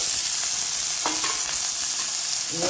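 Turmeric, drumstick leaves, curry leaves, chilli and chopped onion fry steadily in a pan for a drumstick-leaf stir-fry, a close, continuous sizzle with a few brief stirring scrapes and no talk.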